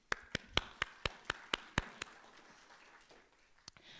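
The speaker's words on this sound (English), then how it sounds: "I'd like to give a round of applause for the cause" About eight sharp, evenly spaced claps ring out at a university oratory competition, followed by a quieter pause and a couple of scattered late claps, sounding like a small, sparse round of applause in a hall.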